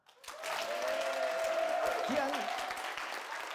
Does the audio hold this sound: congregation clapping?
yes